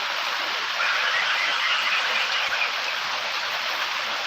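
Afternoon rain falls in a rural province, a steady even hiss of downpour with no pauses, moderately loud and unbroken by voices.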